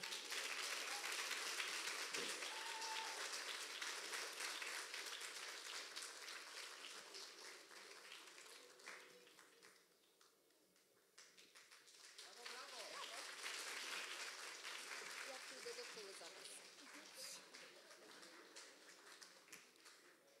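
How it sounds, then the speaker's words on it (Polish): Audience applause at a children's song festival gala in Łasin, a broad clapping wash from a hall crowd that dips briefly midway, then swells again and carries on, with an announcer's voice heard over it. "Wielkie brawa i gratulacje."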